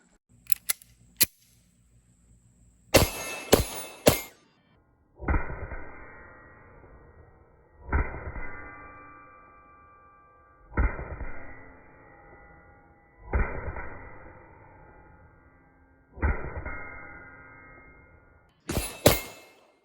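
A Beretta 92G Brigadier 9mm pistol fires at steel plates: a few sharp cracks first, then five spaced shots each followed by a long ringing metallic clang from the struck steel, loud and close.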